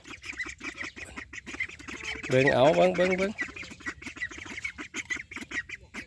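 A burst of Muscovy duck quacking and honking rises over a man's repeated calling, with the birds' noisy chatter briefly dominating before his voice continues.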